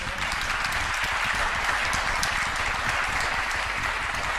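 Steady applause from an audience at a public meeting, a dense unbroken clatter of clapping hands that holds at an even level throughout, with no voices over it.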